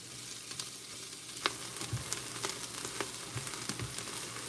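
Onion pieces sizzle and fry in a stock pot at a low, steady level, with scattered clicks and scrapes of stirring. No one speaks.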